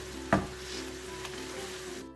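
A Bombay street-style omelette mixture cooking on a high flame, with a steady close sizzle and frying hiss under one short knock of a utensil and no talking.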